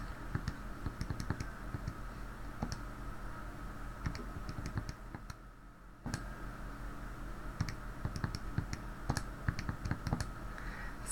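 Rapid keystrokes tapping out values on a calculator or computer keyboard, clicking in irregular bursts with a short pause midway, close and steady, no talking.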